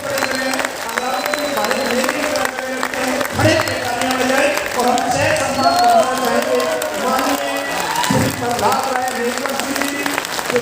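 Applause from an audience at an academy program in Bhilwara, a dense, steady wash of clapping hands filling the whole stretch at close, loud level with no pauses.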